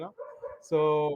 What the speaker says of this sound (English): Sorry for my dog screaming out loud.